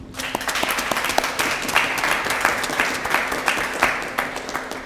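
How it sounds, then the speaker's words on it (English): Audience applause at a mayor's public safety grant press conference, a steady crowd of hands clapping for nearly five seconds with no voices over it. "I'd like to give each and every one of these fine people a round of applause"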